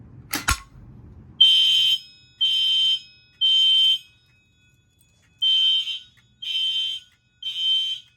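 A Spectral Advance fire alarm horn on an Edwards GX90 system sounds outside a boiler room after a sharp pull-station clack, blaring in loud, even, one-second pulses separated by short gaps.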